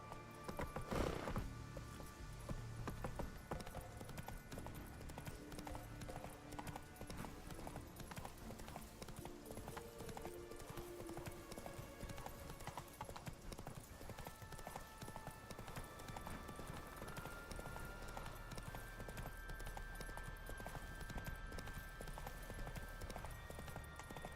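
Steady rhythmic clip-clop of a horse's hooves trotting in The Witcher 3 video game, continuous and moderately close, under a low ambient background with a brief louder burst near the start.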